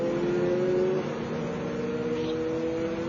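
The number 3 Freisinger FIA GT race car runs at the Lausitzring near the end of the main straight, its engine giving a steady, distant drone with a slight pitch shift partway through.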